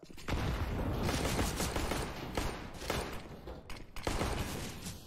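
Gunfire exchange in Counter-Strike on the Nuke map during a professional esports match: loud, dense volleys of rapid shots, with brief gaps between bursts.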